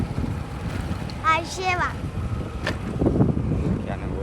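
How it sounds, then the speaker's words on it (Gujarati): Strong outdoor wind buffeting the microphone with constant low rumble and gusts throughout, while a person talks briefly over it. "પવનનો મોબાઈલ ઉડી જાય એમ છે. બહુ પવન છે."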